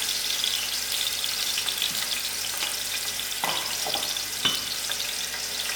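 Chopped onions with curry leaf fry in a pot of masala for fish biryani, making a steady bright sizzle close by, broken by a few scraping stirs of the spoon.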